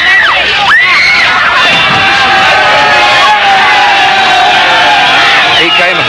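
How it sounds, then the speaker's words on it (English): Loud, dense crowd noise with high-pitched screaming from girls, overlapping shouts and babble, continuous and close throughout, with voices talking within the din. "you heard the screams of the girls in the crowd"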